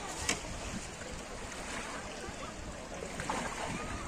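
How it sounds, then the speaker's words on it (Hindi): Continuous rushing of sea water washing over a beach shore and underfoot, a broad steady wash close by with a faint breezy hiss throughout. "ये देखिए पानी आ रहा है हमारे पाँव के नीचे"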